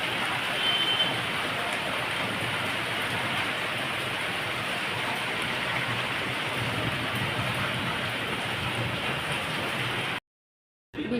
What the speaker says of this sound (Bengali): কেমন জোরে বৃষ্টি হচ্ছে দেখো।